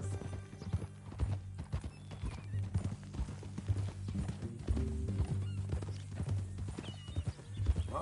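Horse hooves clip-clop in a steady walking rhythm in Red Dead Redemption II, with tack jingling and occasional horse snorts under the clear, close hoofbeats.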